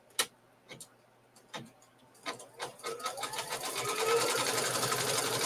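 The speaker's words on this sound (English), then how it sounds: "Now I'm going to stitch that down." Quilt fabric pieces being stitched on a sewing machine: a few separate clicks and short bursts come first, then the motor settles into a steady, close whirring run. No one speaks.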